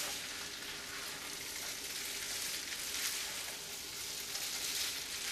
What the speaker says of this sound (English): And you keep stirring and stirring. And the egg is gonna start to coat.